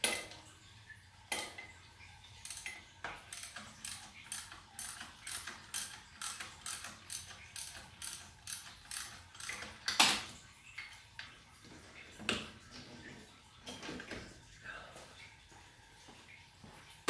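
A ratchet wrench loosening a 15mm bolt on an engine during cylinder head removal, with a long run of rapid, sharp clicking in close bursts, followed by a few slower, heavier clicks.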